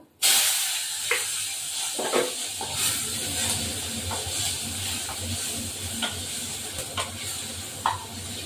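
Tomato drops into hot oil already seasoned with black cumin for a tengra fish curry, bursting into a loud, close sizzle that keeps hissing steadily with a few stirring clinks.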